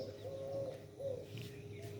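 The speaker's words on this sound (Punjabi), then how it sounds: "ਇਹ ਉਹ ਘੁੱਗੀ ਐ ਮੈਨੂੰ ਪ੍ਰਤੀਤ ਹੁੰਦੀ ਐ" A dove coos softly twice, a low hollow call repeated over faint outdoor background hum.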